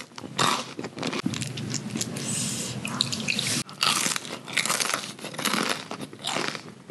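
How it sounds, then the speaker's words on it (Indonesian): Crunchy fried cireng salju dipped in spicy-sour sambal rujak being bitten and chewed close up, with loud crisp crunches and wet chewing repeating irregularly throughout. "Udah cirengnya krenyes, dalamnya tuh ciwi, apalagi dicocol sama sambal rujak"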